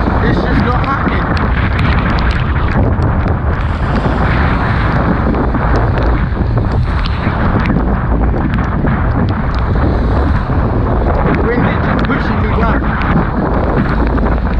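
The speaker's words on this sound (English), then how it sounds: "The wind is just pushing me back." Strong wind roars steadily against a small sailboat out on the water, a loud, unbroken rush of buffeting that heavily batters the microphone throughout.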